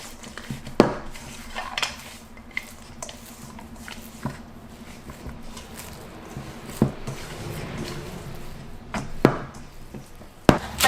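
Cookie dough made with coconut sugar and oats being mixed with sultanas in a bowl, giving irregular clinks and scrapes of a utensil against the bowl with soft squishy thuds, close by and without talk.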